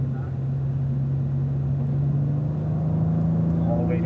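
Cadillac ATS-V engine accelerating out of a corner on a race track, a steady heavy drone that climbs slowly in pitch, heard from inside the car with wind and road rumble.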